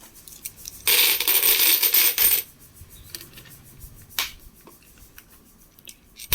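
Uncirculated Banaras Hindu University commemorative coins from the Hyderabad mint clinking as they are handled and dropped, with a loud burst of jingling metal followed by a few sharp isolated clicks, close by with no talk.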